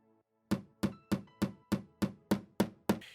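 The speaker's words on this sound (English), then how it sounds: "And then hammer in the raw plugs." Wall plugs being hammered into drilled wall holes for mounting a Google Nest wireless doorbell give nine sharp, evenly spaced hammer knocks in quick succession, close and fairly loud, with no talk.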